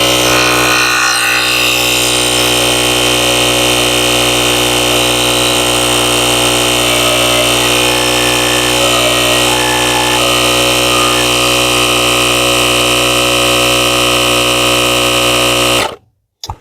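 A portable air compressor jump starter inflating a tire drones loudly and steadily with a constant buzzing hum, then cuts off abruptly near the end.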